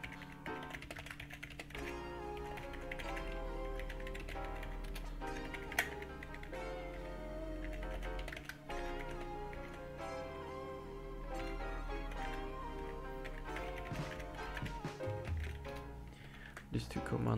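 Commands typed into CMD on a computer keyboard: rapid, light key clicks in irregular runs, faint beneath a steady music bed and intermittent talking.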